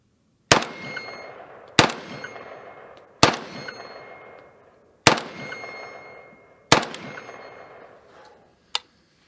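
Single shots from Zastava M90 and Mini Beryl 5.56 AK rifles are fired outdoors, five loud cracks spaced a second or more apart, each ringing out with a long decaying echo, then a fainter final report.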